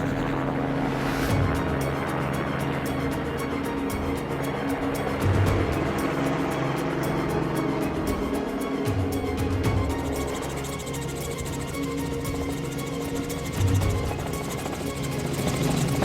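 Continuous rotor thump and engine drone of a helicopter in flight, heard from inside, loud and steady throughout, with occasional muffled voices.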